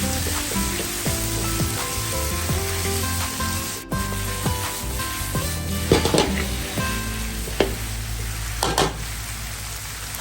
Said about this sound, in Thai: ใส่กุ้งใส่เบิกได้เลยครับ ตามด้วยเส้นใหญ่ ผัดเส้นให้หอมครับ